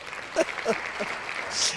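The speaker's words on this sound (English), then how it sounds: "we're just going to give you some applause, Steve, instead." A stock applause sound effect: light clapping from a few hands, scattered and somewhat thin, with a brief hiss toward the end, played on a live ham radio show.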